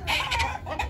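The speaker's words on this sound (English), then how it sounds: "Female chicken. A hen." A hen at a Kenyan street food spot clucking in short repeated bursts, fairly close and clear, with no talking over it.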